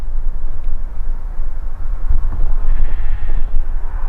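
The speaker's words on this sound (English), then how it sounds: "That was a sheep, by the way." A sheep bleats a few times at night in a church graveyard in Wistow, Leicestershire, heard over a loud, constant low rumble of wind or background noise, without talking.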